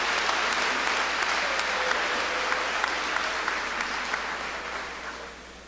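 Applause from a crowd at a middle school promotion ceremony, a dense, steady clatter of many hands that gradually tapers off toward the end.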